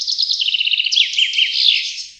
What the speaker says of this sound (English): So George gave me this bird call